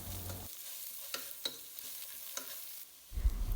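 Onions fry in a pan with turmeric and pepper powder, soft sizzling broken by a few sharp scrapes of a stirring spoon, ending in a louder burst of frying.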